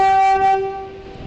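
Train horn sounding from a double-headed train pairing, a single sustained multi-tone blast that holds steady then fades, close and loud with no voices.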